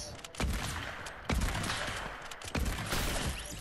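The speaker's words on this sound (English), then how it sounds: "I'm using the hunting rifle and the bolt action." Hunting rifle and bolt-action rifle shots in a video game crack out as three heavy, close blasts with full-band booms, each trailing into loud noisy rumble.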